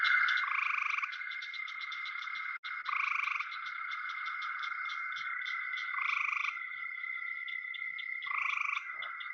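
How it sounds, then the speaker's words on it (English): Eastern gray tree frog (Hyla versicolor) calling in short, high-pitched trills, repeated in a steady series of pulsed bursts, clear and alone with no voices. "I will play Hyla versicolor, which is the eastern gray tree frog."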